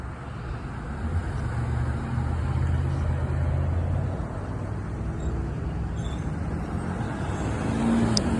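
Cars drive through a Pacific Coast Highway intersection at Artesia and Gold, giving a steady, moderate roar of passing traffic with engine rumble rising and falling throughout and no voices.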